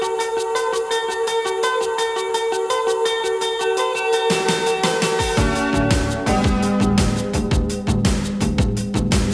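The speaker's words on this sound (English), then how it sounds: "If you're not familiar with the original song, it sounds like this." A song plays clearly as recorded music, with a steady rhythmic beat and sustained synth tones that fill out with a deeper bass layer partway through, with no talking.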